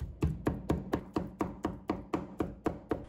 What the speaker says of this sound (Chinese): 再把它剁成肉末